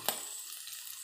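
Chopped ginger, curry leaves and green chillies hiss in hot oil, a soft steady sizzle opening with a brief sharper burst as they hit the pan, quiet and close without talk.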